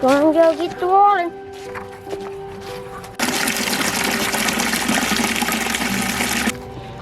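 Water gushing into a bucket on a homestead, starting after a few seconds as a strong steady splashing pour that runs for about three seconds and then stops, with a voice heard briefly before it.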